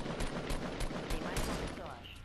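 Rapid bursts of gunfire from a Fortnite match crackle in quick succession, fairly faint and distant, forming a short volley of repeated shots.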